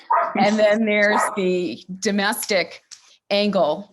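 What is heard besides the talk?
dogs barking in the room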